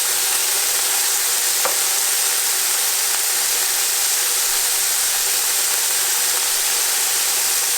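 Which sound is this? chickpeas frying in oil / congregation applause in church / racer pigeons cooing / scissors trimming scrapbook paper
chickpeas frying in oil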